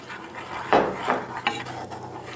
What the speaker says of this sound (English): Stir it with a stick.